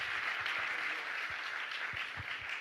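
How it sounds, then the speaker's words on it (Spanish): A church congregation claps in a soft, distant wash of applause, steady throughout with a few sharper individual claps standing out near the front. "Así que denle un aplauso al Señor por eso."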